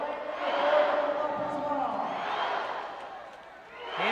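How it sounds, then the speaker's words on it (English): A crowd at a swimming race, the men's 200 breaststroke, roars and cheers a swimmer on, the noise swelling and fading in waves with no speech in the clip. "So could we have another case where this crowd is urging a swimmer on towards a record?"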